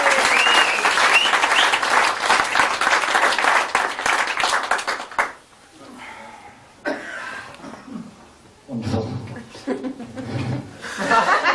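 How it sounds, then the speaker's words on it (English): A theatre audience at a comedy stage hypnosis show, about 2002, gives a loud sustained round of applause with laughter mixed in, then clapping thins into scattered bursts and chuckles. "give him a huge round of applause"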